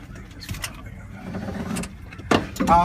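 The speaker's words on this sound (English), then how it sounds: "All right, so now I got the truck fired up." A truck engine idles steadily just after starting, a low rumble running under background noise with a couple of brief clunks and a louder burst near the end.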